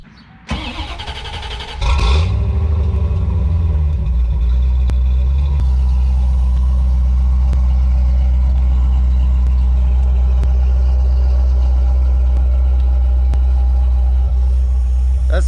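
A C4 Corvette cranks briefly, fires up with a loud surge, then settles into a steady, deep, close idle that drones on without a break.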